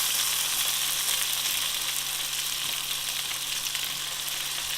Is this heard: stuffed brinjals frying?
yes